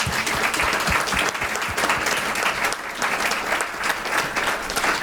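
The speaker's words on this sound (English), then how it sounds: "I think you'd like to give them all a round of applause." Sustained audience applause at a debate on the stage of a trade expo, a dense, steady wash of many hands clapping for the full stretch with no speech over it.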